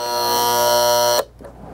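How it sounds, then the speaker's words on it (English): 1950s Westclox S5-J Moonbeam alarm clock giving a loud, steady electric buzz close by that cuts off abruptly after about a second, leaving faint handling noise. "And then to shut the alarm off,"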